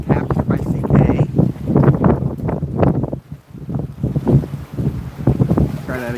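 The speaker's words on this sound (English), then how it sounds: "It's very, very windy today." Strong wind buffets the microphone at a camping spot on a windy Hawaiian coast, a steady loud low rumble through the whole stretch, with someone talking over it.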